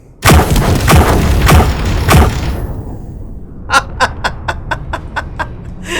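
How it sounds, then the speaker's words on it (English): Explosions in the Space Engineers video game: four heavy broadband booms in quick succession, then a rapid run of sharper, thinner blasts and crackles as the first roar fades. "We are about to blow this place up."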